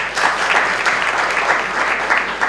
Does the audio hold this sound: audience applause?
yes